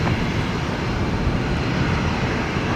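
A Boeing 777 at Brisbane Airport roars with a steady, broad engine rumble, loud and continuous, with no voices over it.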